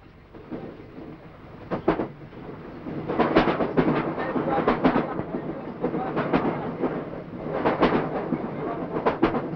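A train runs on rails with a steady low rumble and recurring bursts of rhythmic clatter, fairly close and continuous, with no clear talk.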